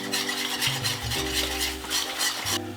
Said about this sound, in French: Le lait commence à bouillir, le roux avance, on mélange.